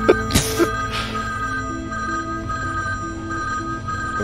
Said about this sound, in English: Suddenly, the sharp shrill of the phone.